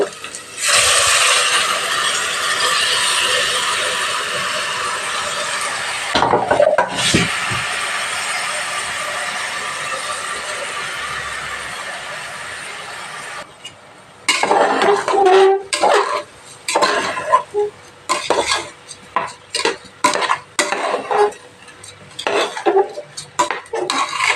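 Soaked rice goes into a pan for ghee rice and is stirred, giving a long steady scraping rush followed by rapid irregular clatters of spoon on metal, loud and close, with no talking.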